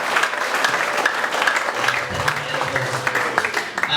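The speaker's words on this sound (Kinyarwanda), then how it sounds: "Dukomere Imana amashyi" A church congregation claps together during a Sunday service, the applause dense and steady from start to finish with a low hum of voices underneath.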